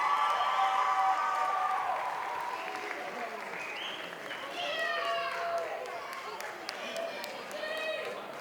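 A school crowd at a winter sports awards night applauds the Lady Hilltoppers, a steady wash of clapping that dips slightly midway, then swells again as cheers and shouts rise over it.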